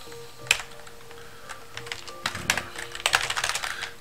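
Keystrokes on a computer keyboard as a telnet command is entered at a terminal, a scattered run of crisp clicks that speeds into a denser burst toward the end, close and alone with no talk.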